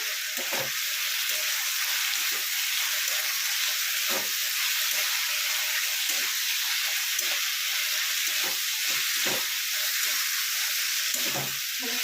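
Potatoes and vegetables sautéing in a pan for a Bengali fish-oil chochori, with a steady loud sizzle and scattered scraping stir clicks throughout, no voices.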